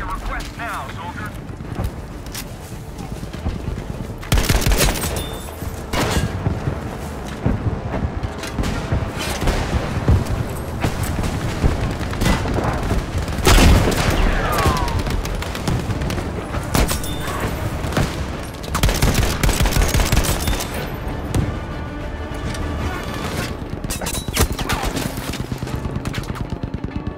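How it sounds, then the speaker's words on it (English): In the Battlefield 5 video game, an artillery barrage and gunfire keep going for the whole stretch: dense, continuous explosions and rapid shots crack loudly and near, with voices heard now and then through the din. "Requesting an artillery barrage on this location."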